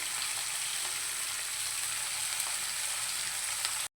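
Chopped garlic and ginger fry in hot oil in a pan with onions, a steady, even sizzle close up that runs without pause and cuts off abruptly at the end.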